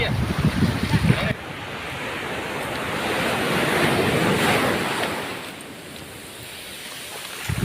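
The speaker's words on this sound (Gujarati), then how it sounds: "લોઢું બહુ આવે દરિયો ભરાય એવું લાગે" Sea waves roll in and wash out, building to a broad roar and then fading, with gusty wind buffeting nearby.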